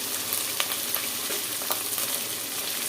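Ground spices hitting hot oil in a pan give a steady, close sizzle with a dense crackling hiss and a few sharper pops, with no voices.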